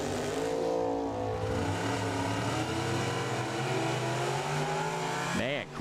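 Corvette race car charging hard at Firebird Motorsports Park, a loud sustained engine roar with shifting pitch throughout, ending in a sharp rising-and-falling sweep as a car passes close by.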